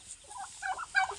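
A turkey gobbles in short, bright bursts at a village campsite, fairly faint and close, with a few quick calls clustered together over a low background hum.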